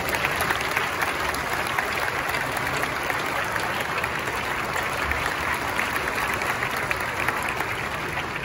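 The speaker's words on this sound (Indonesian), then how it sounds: "Mari sambut dengan tepuk tangan." Steady, dense applause from a large audience at an Indonesian ceremony honoring the Minister of Religious Affairs, continuous and even throughout, with a faint crowd murmur underneath.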